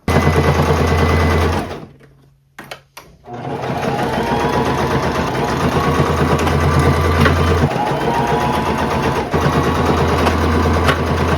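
A sewing machine runs a straight stitch at tension 3 with a loud, close, rapid mechanical rattle. It pauses briefly near the start, then resumes and hums on steadily.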